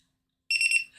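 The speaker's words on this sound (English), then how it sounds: "we're waiting for this timer that I overset" A kitchen timer alarm goes off after half a second of silence, sounding a bright, rapid electronic beeping that stays steady and fairly quiet, alone with no talk.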